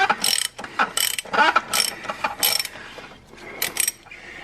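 Ratchet socket wrench with a 24 mm socket loosening the oil filter cap on a 2017 Jeep JK during an oil change, heard as several close, crisp bursts of rapid clicking separated by short pauses.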